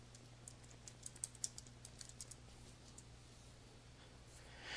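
Light keyboard typing on a computer while a note is being written in Outlook 2013: a short burst of soft, quick clicks near the start, then quieter taps over a steady low hum.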